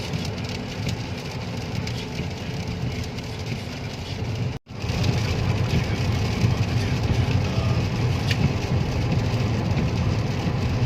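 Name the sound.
heavy rain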